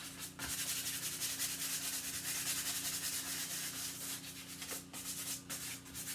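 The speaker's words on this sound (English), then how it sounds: "I'm now going to take some light sandpaper, and I just want to rough this up just a little tiny bit." Light sandpaper roughing up vinyl chair upholstery by hand, a soft steady rubbing hiss with quick back-and-forth strokes, faint and close, no voices.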